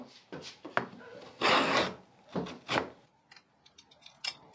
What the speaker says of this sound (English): I'm adding some grooves to the front and to the sides to fit in the base of the box.